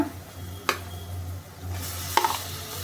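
Tomatoes added to softened onions frying in a pan, a low hiss that swells into a brighter sizzle, punctuated by two sharp utensil knocks against the pan, close and with no talking.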